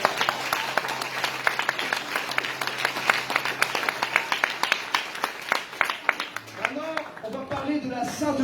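A church congregation applauding the Lord Jesus with steady, dense clapping that rolls on for several seconds while a preacher's voice carries over it, then fades into talk.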